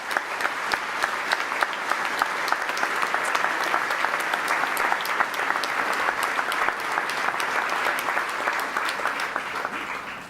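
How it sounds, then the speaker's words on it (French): Audience at a regional New Year's reception in Melun Val de Seine applauds steadily, a dense sustained wash of many hands clapping throughout, loud and close with no talk over it. "Vous pouvez les applaudir."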